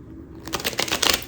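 Tarot cards riffle and slap in a quick shuffle, a close, crisp burst of rapid flutters after a brief quiet start, with no talking.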